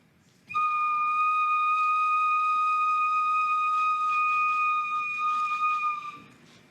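A single long, steady, piercing whistle blast used in a pagan ritual in Canada during the papal visit, held evenly for about six seconds before fading, loud and close with no talk.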